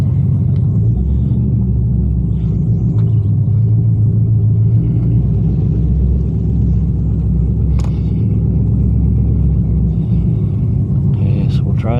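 A 2002 Camaro SS with 3.90 gears gives a loud, steady low engine rumble heard from inside the car, a continuous drone with someone talking over it.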